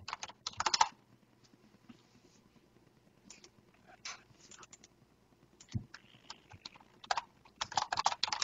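Laptop keyboard typing in scattered close bursts, quick clusters of key clicks separated by pauses, louder at the start and end with softer taps between.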